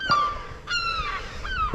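Seagulls give several loud, harsh honking calls close by, in three bursts with short gaps between them, over faint outdoor background noise.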